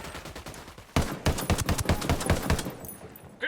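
Rapid bursts of gunfire in a video game firefight, an irregular volley of loud, close shots crackling in quick succession after a quieter opening second.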